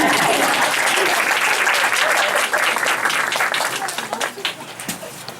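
An audience at a school presentation on American symbols breaks into steady, dense applause that fills the room, then thins out toward the end as the clapping fades.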